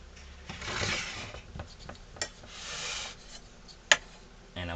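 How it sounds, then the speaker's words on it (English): Hand sanding on the carved wooden chin and lower mouth of a ventriloquist dummy head, soft uneven rasping strokes in short bursts with a few light knocks, close and quiet. "We're going to sand this down."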